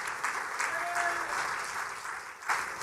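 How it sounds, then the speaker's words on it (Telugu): A church congregation claps hands together in praise, a steady dense patter of many hands filling the room, fairly loud and continuous with a brief dip near the end. "చప్పట్లు కొట్టి దేవుని స్తుతించండి"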